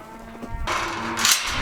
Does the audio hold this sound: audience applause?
no